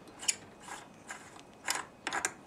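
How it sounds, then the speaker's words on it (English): Channel-lock pliers grip and turn the spout nut on a kitchen faucet, giving four or five short, quiet metallic clicks and ratcheting scrapes spaced apart, close up and alone. "So we're going to take a set of channel locks and get a hold of this nut"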